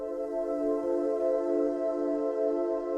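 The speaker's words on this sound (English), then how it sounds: "they use what's called the minor ninth chord right here" A warm synth pad in FL Studio holding a minor ninth chord, one sustained, softly swelling tone that stays steady and mellow throughout at moderate level, with nothing else sounding.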